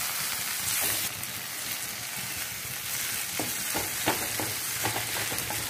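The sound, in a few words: tomatoes frying in pan for ridge gourd curry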